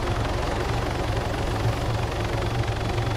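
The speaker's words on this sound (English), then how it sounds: "do you mistake a yellow black helicopter for a red helicopter? It's a Mohawk as well." A yellow and black Mohawk helicopter in a video game makes a continuous loud rotor drone with rapid, even chopping that stays steady throughout.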